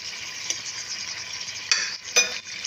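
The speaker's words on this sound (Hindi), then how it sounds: "गोश्त को सफ़ेद होने तक, वाइट होने तक भून लेंगे" Beef karahi meat frying and being stirred in a pan gives a bright, steady sizzle, with a few louder hissing bursts as the pieces are turned.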